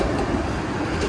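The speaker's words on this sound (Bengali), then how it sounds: "এই দেখেন দুটো ট্রাম পাস করছে" Trams passing on a city tram line, heard as a brief steady rumble of rolling wheels and motor noise, fairly loud and continuous with no speech.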